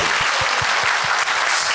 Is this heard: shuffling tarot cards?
no